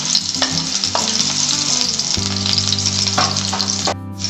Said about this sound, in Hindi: अब मैं इसमें डालूंगी ये बारीक कटी हुई 1 हरी मिर्च। हल्का सा हम इसे फ्राई करेंगे।